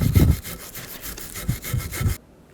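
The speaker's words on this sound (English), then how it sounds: "take the wire brush. Clean up this rust." Wire brush scrubbing rust off front brake parts on a 2003-08 Toyota Matrix, several coarse rasping back-and-forth strokes, close and fairly loud, then stopping abruptly.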